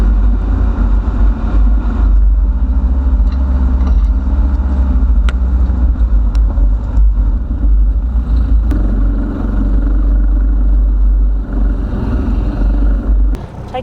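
The Big Jack truck towing a heavily loaded trailer carrying a culvert along a muddy track gives a loud, steady low engine drone, close up and continuous, with a few sharp knocks and clatters and no talk.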